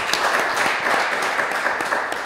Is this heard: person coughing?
no